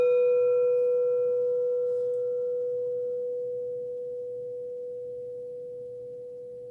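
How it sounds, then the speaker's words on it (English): A Tibetan singing bowl, struck once for space clearing, rings a single steady, pure tone that hangs clearly and fades only slowly, its upper overtones dying away first. "Tibet singing bowl is great for that."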